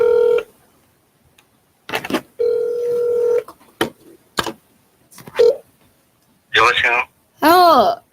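A telephone call is dialed: short bursts of touch-tone beeps and steady dial-tone segments sound between pauses, close and clear, ending in a couple of rising electronic tones as the line connects.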